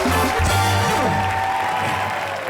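A studio audience on a TV comedy show applauds to welcome a guest, a loud sustained burst of clapping mixed with musical tones.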